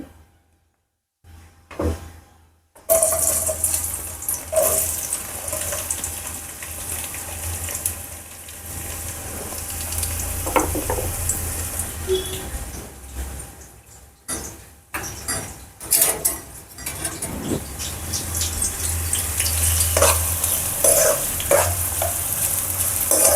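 Onions hit hot oil for a chicken curry and are stirred over high flame, a loud, continuous sizzle with scraping and clattering stirs after a brief quiet start.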